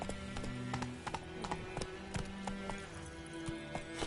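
Roach, a horse in the video game Witcher 3, gallops with quick rhythmic hoof clip-clops and a jump, close and clear with no talk.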